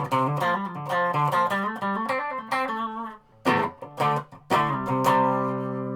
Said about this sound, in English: As you know, humbuckers sound better with distortion.